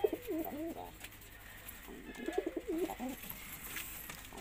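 Indian fantail pigeons cooing close by in a breeding setup, giving two soft, rolling coo phrases separated by a short pause over low background hum.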